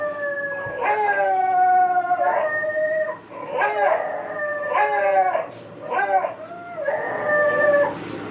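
Dogs howl in a series of long, wavering wails, several drawn-out cries following one another across the stretch, clear and fairly close.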